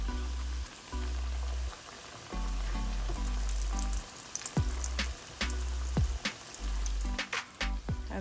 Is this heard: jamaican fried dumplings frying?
yes